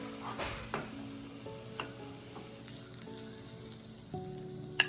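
Diced carrots and finely chopped beans tumble into a hot pan for vegetable rice, setting off a steady sizzle with scattered stirring scrapes and a few sharp clinks of utensil on metal, no voices.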